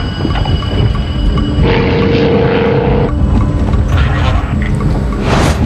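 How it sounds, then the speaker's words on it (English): Roar of a Midwest Airlines Flight 5481 airliner, a Beech 1900D turboprop, during its takeoff roll, a loud steady engine drone with a sustained tone partway through and no talk. "To air traffic control, Flight 5481's takeoff roll is perfectly normal"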